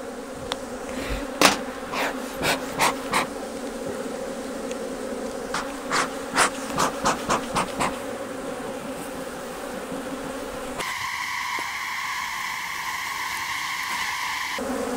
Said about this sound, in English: There are so many bees on my veil